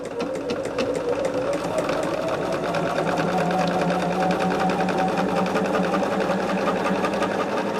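A sewing machine runs steadily, stitching quilt pieces in a dark color with a continuous mechanical whir and rapid needle rhythm, close and even throughout.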